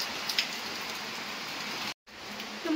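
Steady rain falls on a surface during a flood, a dense even patter that holds throughout, with a brief drop-out near the end.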